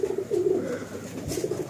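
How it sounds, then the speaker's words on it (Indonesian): Pigeons at a pigeon collection stall in Pekalongan cooing steadily, repeated low rolling coos close by, with a faint clatter partway through and no talk over them. "melihat koleksi merpati di lapak Daim Squad guys"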